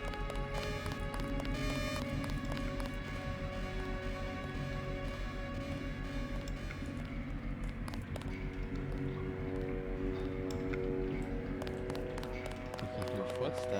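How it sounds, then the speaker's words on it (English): Footsteps run in Deus Ex as a steady rapid patter of taps under a loud, dense game score, continuing throughout the clip. "I can hear footsteps."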